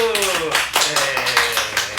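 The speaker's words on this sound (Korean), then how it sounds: "여러분 한 번만 선생님들에게 우리가 박수 쳐줬으면 좋겠습니다. 자, 박수!" Children at a Sunday elementary-department church service clap for their teachers, with a loose series of hand claps and taps at close range heard under ongoing talk.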